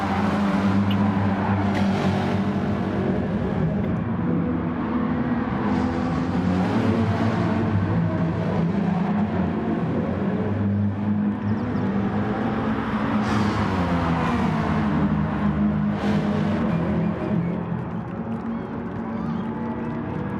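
Several GTTCC race cars circle Autopolis in a racing game replay, engines droning steadily and loud with rising and falling pitch as they chase each other closely through corners.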